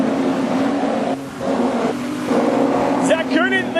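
Street stock race cars roar around the corners at Carina Speedway during a final, engines droning and revving at a distance, under steady commentary from an announcer.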